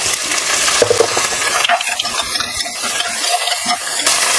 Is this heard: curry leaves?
yes